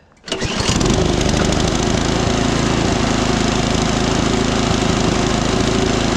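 A Craftsman 24-inch electric-start snow blower engine catches after a brief crank and settles into a loud, continuous, buzzing run close by, steady without pause for the remaining five or so seconds.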